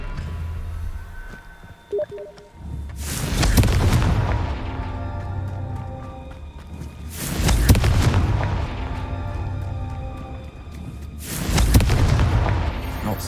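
Confringo spell blasts in Hogwarts Legacy go off three times, each a heavy booming explosion with a long rumbling tail, spaced several seconds apart over low ambient game sound.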